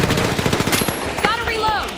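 Rapid automatic gunfire in the video game THE FINALS rattles close and loud through the whole clip, with a short voiced game cue near the end.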